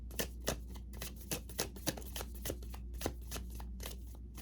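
A deck of tarot cards is shuffled and drawn by hand, giving a quick series of crisp papery slaps and flicks at an uneven rhythm, close and fairly quiet over a low background hum.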